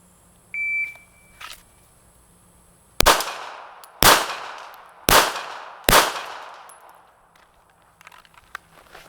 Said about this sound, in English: Draw and fire 4 in 8 seconds.